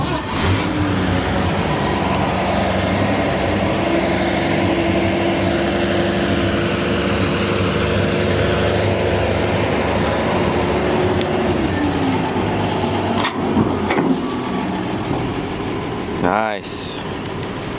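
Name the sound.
1951 Chevrolet 3100 pickup straight-six engine starting and idling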